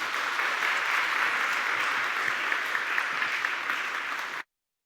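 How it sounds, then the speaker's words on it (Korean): Congregation applause at a Korean church Thanksgiving Sunday service, a steady, full round of clapping that holds evenly and then stops abruptly. "우리 나오셔서 박수로 한번 우리 모시도록 하겠습니다"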